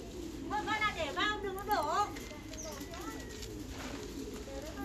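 Thai pigeons cooing on a pigeon farm: a run of rising and falling coos, fairly close and loud in the first two seconds, then quieter calls over steady barn background noise, with a voice talking underneath.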